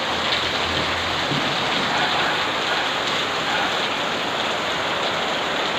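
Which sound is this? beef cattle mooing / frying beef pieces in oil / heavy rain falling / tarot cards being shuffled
heavy rain falling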